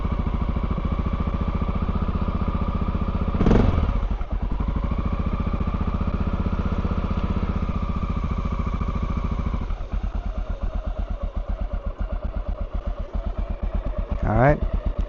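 A Honda XR650L motorcycle engine idles while warming up, a steady thumping rumble with two brief revs that swell and fall back, close by. The idle settles into a slightly rougher pulse toward the end.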